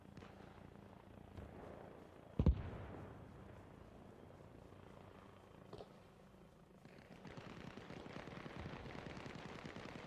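Sustained gunfire aimed at a helicopter in the video game Arma Reforger: a sharp loud crack near the middle, then a dense, rising rattle of distant shots over a steady background rumble.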